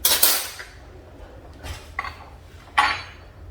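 A spoon scrapes and clinks against a pan while scooping simmering tomato sauce for chicken parmesan, a few distinct metallic knocks and scrapes separated by quiet gaps, close by and with no talking.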